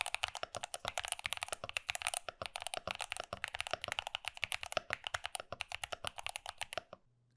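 Rapid, steady typing on a Moondrop Dash mechanical keyboard: dense, close clacking keystrokes with occasional heavier bottom-outs, running continuously for about seven seconds before stopping abruptly.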